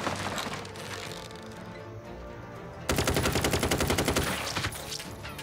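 Machine-gun fire in the tactical game Jagged Alliance 3 erupts halfway through as a loud, rapid, evenly spaced burst of shots that runs for about two seconds and then fades, following quieter background game sounds.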